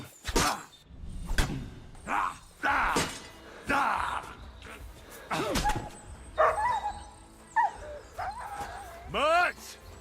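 A dog barks and yips in sharp repeated bursts while being set on someone, with whimpering and shouting voices in between, close and loud.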